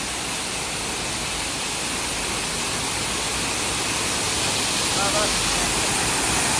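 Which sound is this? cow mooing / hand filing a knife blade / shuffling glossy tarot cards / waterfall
waterfall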